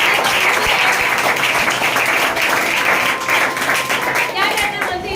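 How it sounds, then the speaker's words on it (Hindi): Audience applause at a business team presentation event, steady dense clapping from a crowd that stays loud and continuous throughout with no gaps. "तालियां नहीं बजाते"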